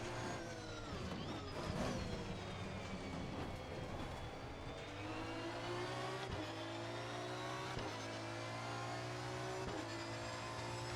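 An Aston Martin V12 race car in a racing game laps Bathurst, its engine droning steadily and rising in pitch through the gears, with one brief dip between shifts and a constant close roar throughout.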